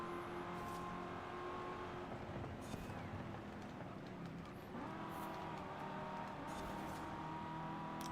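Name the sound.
Chevrolet Camaro engine in video game Forza Horizon 5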